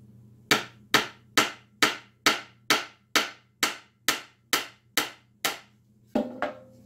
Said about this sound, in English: I'm going to use my hammer and about maybe 2 inches nails